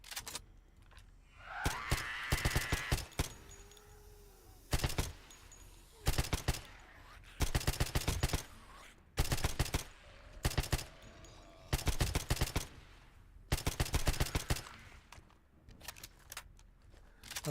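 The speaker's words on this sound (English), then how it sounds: "Let's try out our new gun." Video game gun firing in repeated bursts of rapid automatic shots separated by short pauses, loud and close, with faint voice and reload-like sounds between bursts.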